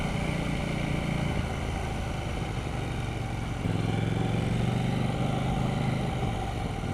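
KTM 790 Duke motorcycle riding on a wet road in the rain, with a steady engine drone and road and rain hiss filling the whole stretch, and a louder surge of engine note partway through.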